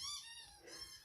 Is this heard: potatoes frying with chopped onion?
no